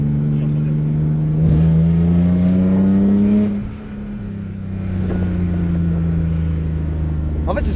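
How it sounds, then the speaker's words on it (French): A car engine accelerates steadily in third gear, a continuous droning note rising in pitch, easing off briefly and then building again, with wind noise throughout. "accélère un petit coup là, juste. Je suis en troisième."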